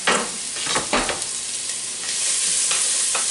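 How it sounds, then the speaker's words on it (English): Vegetables for venison chili dropped into a hot pot and softening, a loud sizzle with stirring clatters at first that settles into a steady close frying hiss. "We're going to soften the vegetables up"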